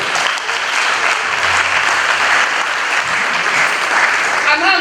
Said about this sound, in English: can we clap for the Chancellor?